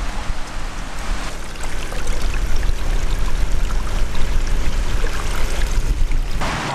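A mountain river in Kyrgyzstan flows past as a loud, continuous rushing wash of water that swells slightly midway, heard close with no speech.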